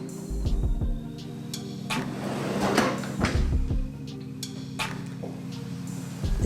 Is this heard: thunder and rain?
no